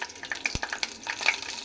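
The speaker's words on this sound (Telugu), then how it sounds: "ముక్కలు దూరగా వేయించుకోవాలి." Green chili pieces frying in a pan, a close, steady sizzle with light crackles and one sharp tap partway through, no voices over it.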